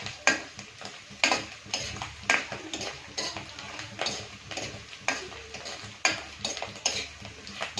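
Paneer pieces frying in a pan with oil, a steady sizzle broken by repeated scraping and stirring clinks of a utensil against the pan, close and fairly loud with no talk.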